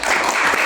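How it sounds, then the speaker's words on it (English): A crowd at a charity fun run event applauds steadily, dense clapping that fills the whole short moment without a break. "Warm round of applause,"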